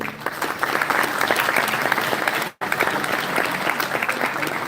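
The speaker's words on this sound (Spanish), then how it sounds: "Un aplauso por favor para Patricio." Loud, dense applause from a conference audience, steady clapping with a brief cut partway through before it resumes.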